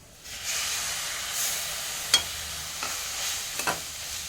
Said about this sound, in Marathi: आता हे दोन तीन चमचे मी दूध टाकते.